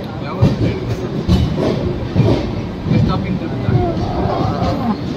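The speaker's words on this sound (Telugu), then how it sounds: "ఏం ట్రైన్ ఆకుండా వెళ్ళిపోతుంది." The Venkatadri Express passenger train runs through a station without stopping, its wheels clattering close by in a regular rhythm of pulses about once a second.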